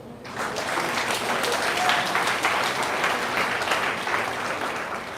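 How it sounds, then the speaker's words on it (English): A congregation at a live faith gathering claps together in a sustained, even wash of applause, moderately loud and unbroken, with a few voices faintly mixed in. "You clap for God."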